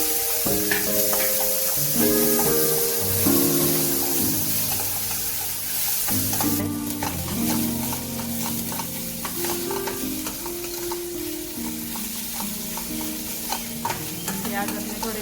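Onions frying in a pan with oil while being stirred for upma, a steady loud sizzle with repeated scraping stirs throughout, and faint background sounds under it.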